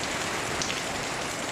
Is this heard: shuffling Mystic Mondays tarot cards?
no